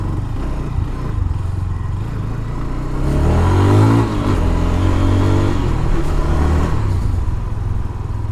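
A GPX Demon motorcycle engine revs up hard after servicing, its rising whine swelling loudly over a steady rumble before settling back.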